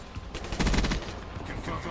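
Gunfire in a first-person shooter video game, with a quick cluster of shots that blur into a short burst and sit amid other game noise.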